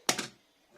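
A single quick swipe of a rotary blade slicing fabric along a ruler on a cutting mat at a 45 degree angle, a short crisp scrape close by, then quiet.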